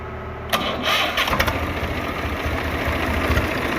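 A Swaraj 855 tractor's diesel engine cranks and catches at about half a second, then settles into a loud, steady rumbling idle close by.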